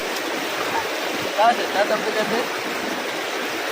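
River water flows steadily at a bathing spot, a broad hiss of moving water with a few brief splashes in the middle, while a person speaks a word over it.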